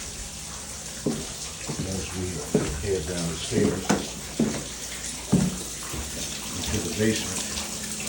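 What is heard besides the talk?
water running inside house from frozen burst pipes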